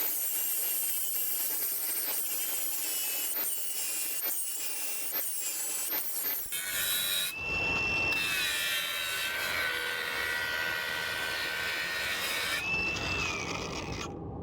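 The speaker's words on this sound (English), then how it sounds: "one of these discs is if you're grinding an open corner weld" An angle grinder with a grinding disc works an open corner weld on metal, first as a steady abrasive hiss with sharp ticks, then as a louder, rougher grind with a rising whine partway through.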